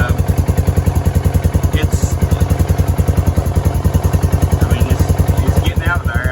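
A small Polaris Ranger utility vehicle engine revs steadily with a rapid, even putter from a modified quiet, muffled exhaust, close and loud, holding a constant rhythm throughout.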